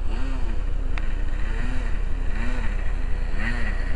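The engine of an F-14 TameCat model airplane taxiing, a small glow engine that buzzes steadily and loudly up close, with a slight rhythmic waver in pitch as it runs.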